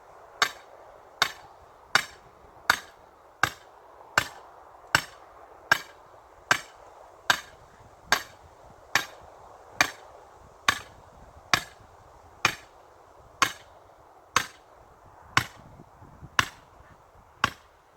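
A stake being hammered into garden ground, about twenty sharp, evenly spaced blows close by, each a crisp impact with a brief ring, over a faint steady background hiss and no talk.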